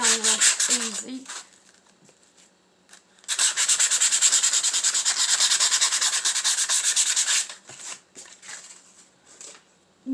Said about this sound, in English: just take some sandpaper and sand it down real easy.